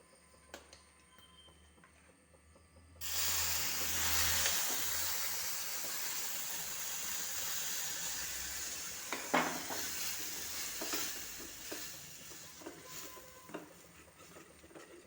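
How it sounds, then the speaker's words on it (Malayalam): A sudden loud sizzle as sambar water hits hot oil and spices, hissing strongly then settling into steady bubbling with a few clinks of a utensil. "ഈ സാമ്പാറിലെ വെള്ളം കുറച്ച് ഒഴിച്ചു കൊടുക്കാം"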